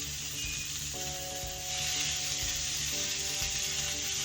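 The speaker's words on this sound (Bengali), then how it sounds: "একটু ভেজে নিচ্ছি এটাকে, দিয়ে এটাকে এখন পেঁয়াজগুলো দিয়ে দেবো এর মধ্যে।" Onions frying in a pan for a broccoli katla fish curry, a soft continuous sizzle with faint scraping and occasional tonal hum in the background.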